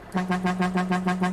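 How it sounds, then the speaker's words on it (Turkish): Air horn of a Volvo FH 540 truck in Euro Truck Simulator 2 blasting in a rapid train of about eight pulsing honks, loud and close, with no voices. "Bu da havalı korna."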